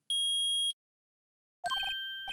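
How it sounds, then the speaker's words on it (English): Metal detector beeps in the courtroom game Phoenix Wright: Ace Attorney, one clean sustained electronic tone, a pause, then a brighter chiming beep sequence, no voices. "I permit the use of the metal detector."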